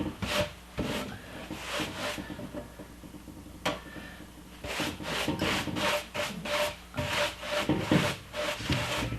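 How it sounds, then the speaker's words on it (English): Sawdust brushed off a rough wooden table top in repeated scraping, rubbing strokes, close and moderately loud, with short pauses between some strokes. "So first we're going to remove some of the sawdust here."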